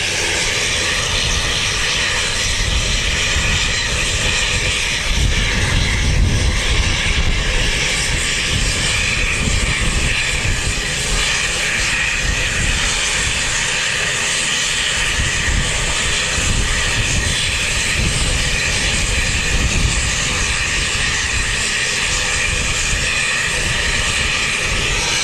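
Five-year-old ATR turboprop airliner at Wellington Airport, a loud steady engine drone with propeller hum and tonal whine, sustained for the whole span with no talk.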